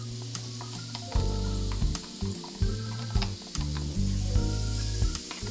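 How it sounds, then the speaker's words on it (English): Onions hit hot vegetable oil in a pan still coated with sausage residue, sizzling steadily with stir scrapes, while a low droning hum underneath swells and cuts out repeatedly. "I added a little bit additional oil, just about a tablespoon or 2 of vegetable oil in, and I'm going to add to this my onions"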